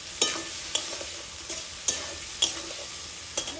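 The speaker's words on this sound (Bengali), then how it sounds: "আমি মশলাটা দিয়ে 4-5 মিনিট কষিয়ে নিলাম" Spice paste with turmeric and a splash of water being fried and stirred in a pan for a ridge gourd and prawn curry, with a soft steady sizzle and several sharp spatula scrapes and clicks spaced irregularly.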